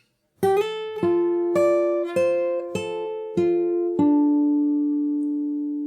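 The full Animal Crossing New Horizons theme phrase on fingerstyle guitar: about eight bright plucked notes in an even melodic rhythm, ending on a low note left to ring out and decay, played close with no talking.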